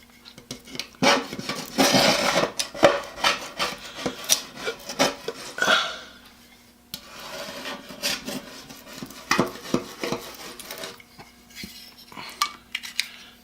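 Old paint and dried glazing putty scraped off a garage window frame with a small blade, close rasping strokes in quick irregular runs, a brief pause midway, then more scraping with no talking.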